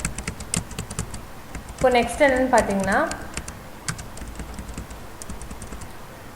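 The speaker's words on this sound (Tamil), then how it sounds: "இது வந்து நீங்கள் மேனுவலாகவே டைப் பண்ணிக்கலாம்" Computer keyboard typing while filling in an Excel invoice, a steady run of light clicks heard under someone talking in Tamil throughout.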